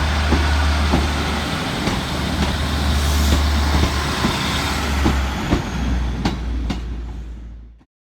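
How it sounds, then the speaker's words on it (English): Northern class 156 diesel multiple unit departing Saltburn station on the Tees Valley Line, a loud, steady low engine drone with wheel clicks over rail joints, close by and gradually fading out at the end. "we see the departure of 156486, departing with the 1459 Northern service through to Bishop Auckland."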